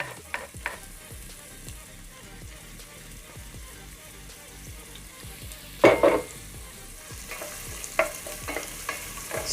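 Onions sizzle and crackle in hot cooking oil in a pan for vegetable rice, a steady dense frying hiss with occasional louder bursts of spatter and scraping as they are stirred.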